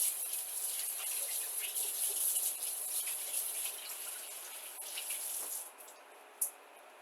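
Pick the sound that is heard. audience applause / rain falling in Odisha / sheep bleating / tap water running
tap water running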